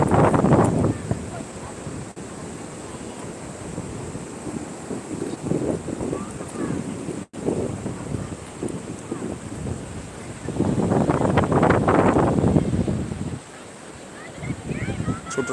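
Surf and gusting wind at Shankarpur sea beach, with waves breaking and swelling in loud surges amid buffeting wind on the microphone, and faint voices in the background.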